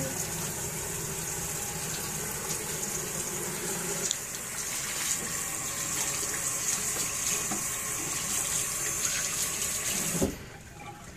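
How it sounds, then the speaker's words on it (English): Water runs steadily from a sink faucet during hand washing, a broad continuous gushing stream that carries on for about ten seconds before cutting off abruptly near the end, with no talking. "wash your hands at the sink, which we just might do"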